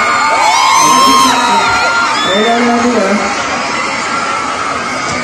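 A large crowd cheers and shouts loudly at a concert, whoops rising and fading while a voice speaks over the noise.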